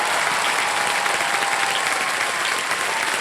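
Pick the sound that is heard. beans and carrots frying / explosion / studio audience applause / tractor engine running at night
studio audience applause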